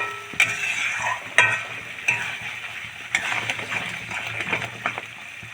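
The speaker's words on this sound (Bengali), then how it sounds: "দিয়ে মশলাটা খুব সুন্দর করে কষিয়ে নেব।" Spice paste with a little water is sautéed and stirred in a pan for khichuri. Close, uneven scraping strokes and light knocks sound over a gentle sizzle.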